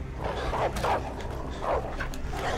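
A dog barks and yips in the video game Beyond: Two Souls, several short close barks in quick succession over a steady game background, with no talk.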